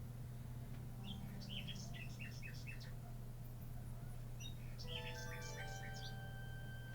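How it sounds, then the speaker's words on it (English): Nightingale singing in the King's Quest VI adventure game: two bursts of rapid, high chirping and trilling warbles separated by a pause, over a steady low background hum, with no talking. "A nightingale perches on a high branch of the tree. She sings the most beautiful song Alexander has ever heard."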